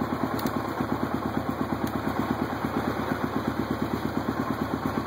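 A 1993 Yamaha Tenere 600 motorcycle engine idles steadily nearby, its even low thumping pulse loud and continuous with no talking over it.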